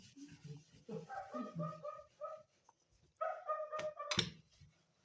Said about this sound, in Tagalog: Tumatahol yung aso namin, si Tiger.